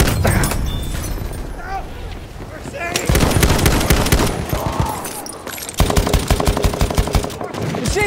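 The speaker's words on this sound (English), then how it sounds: "Machine gun!" Rapid bursts of machine gun fire in Battlefield 1 Team Deathmatch on the Amiens map, loud and near, firing in repeated strings amid distant gunshots and explosions, with shouted in-game voice callouts over it.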